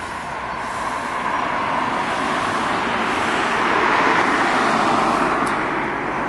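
Road traffic passing the shops in Westhill on an early September morning, heard as a steady, fairly loud wash of tyre and engine noise that swells slightly midway, with no voices.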